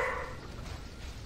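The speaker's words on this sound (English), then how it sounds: "What are you barking at?" A dog gives one short loud bark at the very start, close by indoors, followed by quiet room hum.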